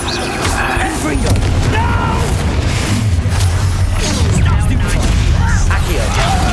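A Confringo fire spell explodes in Hogwarts Legacy, a loud booming blast with crackling debris over continuous dense game noise, while a player talks.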